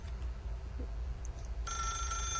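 In the game The Stanley Parable, a telephone bell starts ringing partway through, bright and steady over a quiet low hum.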